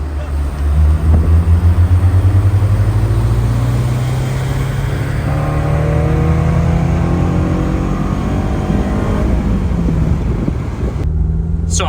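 A Honda S2000 with a titanium twin loop exhaust pulls hard in fourth gear from low revs, its loud, close engine drone rising steadily in pitch for about ten seconds before cutting off abruptly.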